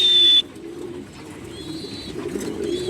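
Racing pigeons coo in a loft with breeding pairs, a low, soft, continuous murmur after a brief high whistle at the start.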